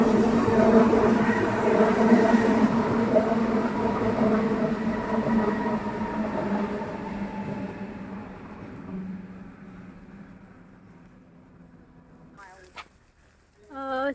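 A train passes near a railway station, a loud rolling rumble with rhythmic wheel clatter that gradually fades into the distance, followed by brief squeals and clatter at the end.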